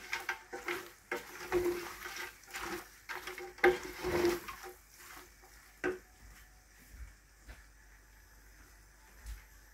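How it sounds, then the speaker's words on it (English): Ginger and garlic fry in a pan, with faint sizzling and intermittent scraping and stirring clatters of a utensil against the pan, quiet and irregular. "Put our ginger and our garlic together. And we're gonna add some of the bottle ginger. Fry up all the flavor together."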